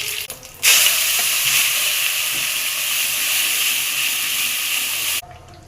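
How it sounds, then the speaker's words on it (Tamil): Mustard seeds spluttering in hot oil for a Tamil brinjal oil kuzhambu, a loud, dense crackling sizzle that starts abruptly and holds steady for several seconds before cutting off. "கடுகு பொறிஞ்சிருச்சு"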